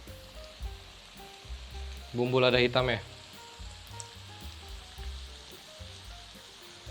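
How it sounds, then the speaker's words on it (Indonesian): Shrimp sizzle loudly while sautéing for about a second over a steady low background hiss, with a short spoken phrase in the clip. "Kita tumis sampai matang"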